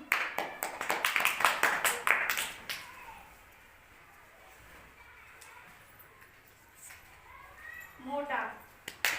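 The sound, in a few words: children clapping for correct answers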